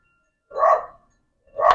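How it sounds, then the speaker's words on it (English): A dog gives two loud, close barks about a second apart, each a single full woof with silence around it. "My dog's in, so she'll stop barking."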